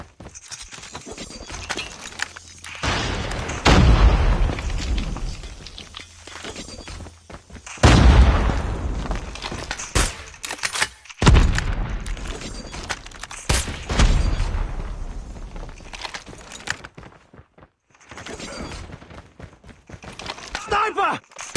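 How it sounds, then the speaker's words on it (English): Frag grenade blasts and gunfire in a Call of Duty Mobile bomb match on the Slithering Spires map, with several loud, booming bursts spread across the stretch amid a busy mix of game effects and voice callouts. "Frag!"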